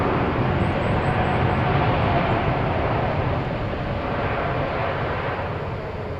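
Jet airliner arriving at Incheon airport, a broad steady roar that slowly fades over several seconds, heard from a distance outdoors with no talking.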